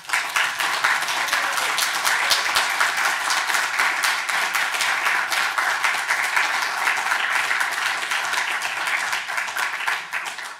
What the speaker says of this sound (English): the organizers and the volunteers here deserve a little bit of applause